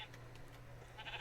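Minecraft sheep bleat faintly, a couple of brief wavering calls over low background hum.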